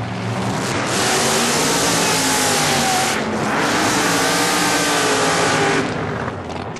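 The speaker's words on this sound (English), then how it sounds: "Here's a door slammer taking on an open wheel car." Drag race pitting a door slammer car against an open wheel car: loud, sustained roaring engines at full throttle, with a brief dip in the middle before the roar resumes and then fades.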